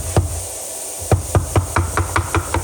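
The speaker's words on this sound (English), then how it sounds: "I use a rubber hammer to" Sharp taps from a rubber hammer on the valve cover of a Honda XL600LM motorcycle engine: one strike, a pause, then a quick run of about eight evenly spaced knocks, close by.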